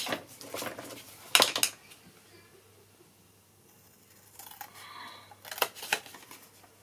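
Scissors snipping through paper along a marked line for an album craft, a few quick close cuts in short bursts with quiet pauses between.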